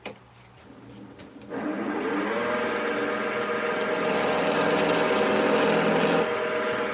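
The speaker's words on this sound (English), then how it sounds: "Let's try out this skew chisel I just sharpened." Wood lathe spinning up and turning a handle while a freshly sharpened skew chisel is tested on the wood, a steady motor hum with a scraping cutting texture, close and continuous, no talking.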